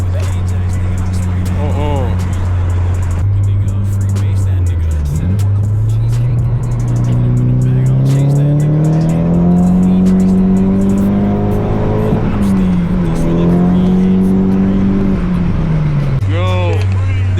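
A right-hand-drive bagged Nissan Silvia S14 revs hard while drifting, the engine pitch climbing and holding high as the tires spin, then dropping and surging again, heard from inside the car with people talking loudly throughout.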